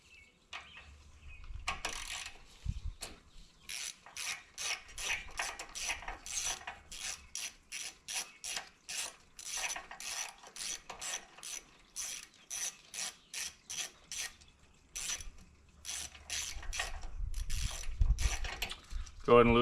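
Rapid ratchet clicking as a socket wrench loosens a 13/16 inch NGK spark plug on a Gravely ZT HD-48 zero turn mower with a Kawasaki engine, steady bursts of clicks close up, alone without talking.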